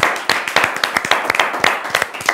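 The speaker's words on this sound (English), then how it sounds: "let's give them a round of applause for solving their sums" A small group of people clapping for a team that solved their sums, close and loud, with distinct uneven hand claps in a quick irregular rhythm that never blends into a full wash.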